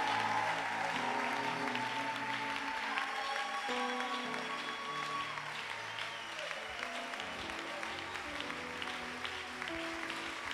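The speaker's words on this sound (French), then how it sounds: "Est-ce que tu peux exagérer par tes acclamations?" A church congregation claps and cheers at a moderate distance, broad sustained applause with some tonal sounds mixed in, continuing throughout at a fairly even level.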